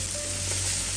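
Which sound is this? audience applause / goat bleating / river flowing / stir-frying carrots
stir-frying carrots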